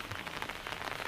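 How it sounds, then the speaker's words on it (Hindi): Heavy rain pours steadily at a forest campsite in India, a dense, constant hiss of drops drumming on surfaces close by, with no voices during this short stretch. "बारिश बहुत तेज लग रही है भाई, सुबह से बारिश रुकने का नाम नहीं ले रही।"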